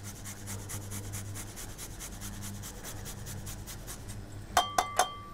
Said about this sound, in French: On va également râper nos gousses d'ail